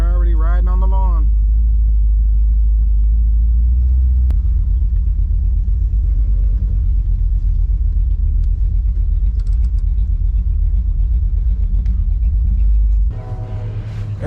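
A car rolls across the lawn at a car show at historic Fort Wayne in Detroit, its deep, loud engine rumble droning steadily throughout with a brief whine at the start.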